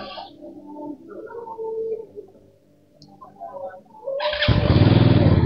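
A low engine idles and burbles quietly, then a 2024 Benda Napoleon Bobber 500 motorcycle roars to life, its loud, rough exhaust rumble filling the last second.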